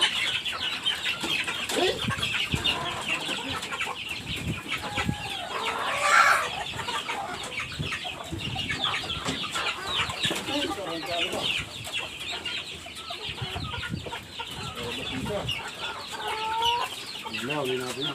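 Native chickens cluck and chatter continuously at close range while being fed coconut pulp, with overlapping calls, faint background noise and occasional quiet talk.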